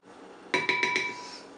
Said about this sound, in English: Kind of stir it around to let it dissolve for a second.